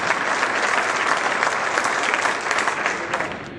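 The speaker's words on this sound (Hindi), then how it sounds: "जोरदार तालियों से खुदा के नाम से" A church congregation breaks into loud, sustained applause during a worship service, steady dense clapping filling the whole stretch without any talk.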